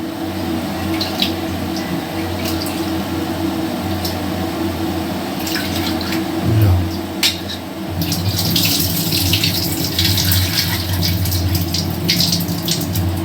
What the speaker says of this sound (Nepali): म चामल धोइरहेको छु।